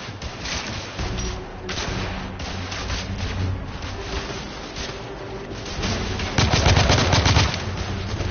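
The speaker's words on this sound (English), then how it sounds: "taking heavy fire." Heavy gunfire in the video game The Order 1886, dense sustained automatic bursts with a loud closer volley near the end, continuous and without speech.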